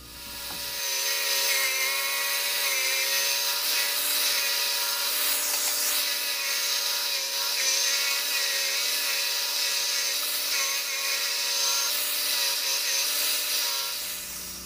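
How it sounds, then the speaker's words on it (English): A drum sander grinds steadily against wood being shaped for a homemade lantern vise, a loud continuous high whine that starts abruptly, holds for about thirteen seconds alone, then spins down. "with a drum sander, you can fix it"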